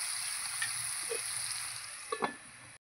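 Potatoes frying in a pan with salt added, a steady close sizzle throughout with a few brief stirring clatters near the end.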